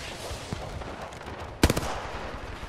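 Gunfire in Apex Legends, mostly faint and distant under a steady background, with one sharp, close burst of several quick shots near the middle.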